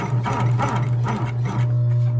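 A sewing machine stitches a Louis Vuitton bag during a repair, running steadily up close with a rapid repetitive mechanical clatter and a constant motor hum.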